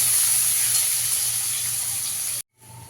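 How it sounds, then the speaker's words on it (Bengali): Chopped onion fries in hot oil in a pan, a loud, steady close sizzle with bright hiss. The sizzle cuts off abruptly near the end, then returns faintly. "পেঁয়াজটাকে একটু লাল করে ভেজে নেবো।"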